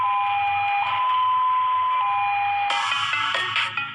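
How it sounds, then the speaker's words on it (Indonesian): Jakarta emergency ambulance siren in the 'halo' tone, a steady electronic warbling wail that sounds continuously and loudly, with sharper clattering bursts layered over it near the end. "Kita seragam ambulans gawat darurat DKI Jakarta itu pakai bunyi halo."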